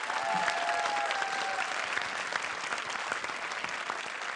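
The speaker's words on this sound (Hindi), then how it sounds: "तो जोरदार तालियों से उनका हौसला बढ़ाइए" Audience applause on a comedy show stage, a full, even burst of clapping from a crowd, moderately distant and steady throughout.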